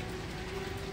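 Heavy monsoon rain pours down in Bankot, a brief, even hiss of falling water with no voices.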